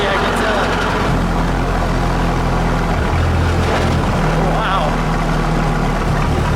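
A 1907 Renault Type AI Vanderbilt Racer engine runs steadily at close range while the car is driven, a loud, constant low rumble that continues underneath a man's spoken exclamation.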